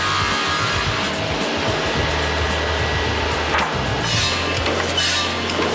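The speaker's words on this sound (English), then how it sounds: "A planer then levels and cuts strips." Wood planer levelling and cutting strips of knife-handle stock in a Marttiini knife factory, a continuous loud whirring drone with rough cutting bursts, running alone without talk.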